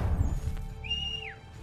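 A horse neighs once in Assassin's Creed III, a bright whinny that rises and then slides down, heard over low rumbling game ambience and a steady tone.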